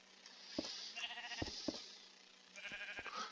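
Sheep in the Minecraft video game bleat several times in quick succession, a few short cries followed by a longer one, fairly close and clear, with no talking over them.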